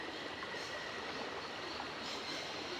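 A train in the adventure game Syberia, a steady rumbling rail noise with rolling wheel clatter, heard continuously and fairly close without speech.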